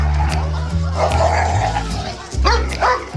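A small dog barks and yips at a restaurant in a quick series of sharp, close barks with brief whimpers, over busy background chatter.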